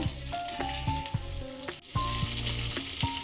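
Butter cube melting into prawn gravy for butter garlic prawns, giving a steady close-up sizzle and frying crackle. Low-pitched music with a regular beat plays beneath it, with a brief dip partway through.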